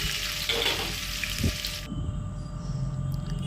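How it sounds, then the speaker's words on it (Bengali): Chopped onions fry in a pan for a Bengali-style chicken curry, giving a steady close hiss with a soft stirring knock midway and the sizzle dropping a little after. "কুচুনো পেঁয়াজটা ভালো মতো ভাজা ভাজা করবো"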